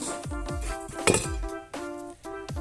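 Soup stock cube being stirred into water in a pot for a clear Thai pork soup, a spoon clinking repeatedly against the pot in an uneven rhythm, close and moderately loud, with no talking.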